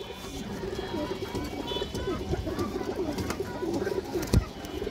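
Pigeons coo in soft, repeated low calls close by, with a voice talking over them.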